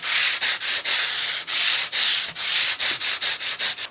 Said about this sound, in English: Just go along the edge of the fingerboard and you can feel for the sharp frets, so you can hear them there